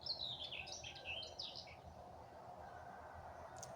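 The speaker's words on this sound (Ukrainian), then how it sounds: "Це той двір, де співає Соловейко." A nightingale sings in a yard in the Kharkiv region, a string of quick high chirps and trills over the first couple of seconds, faint and distant against a low background hum.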